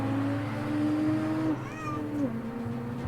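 A cat meows twice, close and clear, with long drawn-out tonal calls over a low steady hum.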